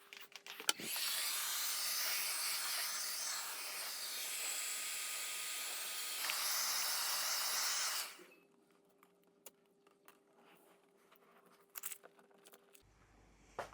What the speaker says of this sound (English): I'm going to get a heat gun and see if I can heat this up, peel this off